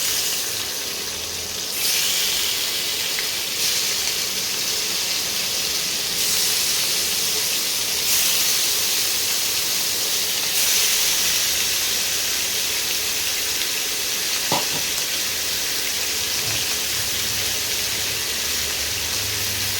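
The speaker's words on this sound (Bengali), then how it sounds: "এই মাংসগুলো ভেজে নিই, ভাজা হয়ে গেছে।" Chicken pieces frying in a kadai in a home kitchen, a steady loud hissing sizzle lasting the whole stretch with slight shifts in intensity and a brief clink midway, no voices.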